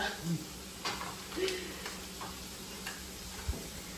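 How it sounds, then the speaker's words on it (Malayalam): Onion, tomato and green chilli sauté quietly in a pan, with faint scraping and tapping of stirring and a soft sizzle in the background. "ഉള്ളിയും തക്കാളിയും പച്ചമുളക് കൂട്ടി നല്ലോണം വഴറ്റി"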